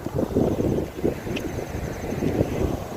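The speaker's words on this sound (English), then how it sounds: "It's really windy up here" Strong wind buffets the microphone on the hilltop of Barn Bluff above Red Wing, Minnesota, a loud continuous low rumble with gusting surges and no voices.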